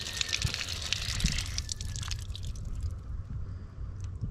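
Water runs steadily into a tractor's rear tire through the valve stem as it is filled, a continuous close gushing hiss with no voices.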